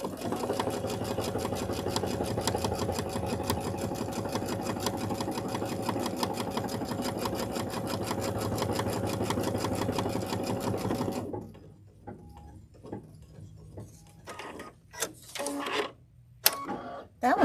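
A sewing machine, likely an embroidery unit, runs the inside of a design in orange thread with a fast, steady mechanical whir for about eleven seconds, then stops, leaving scattered clicks and handling noises.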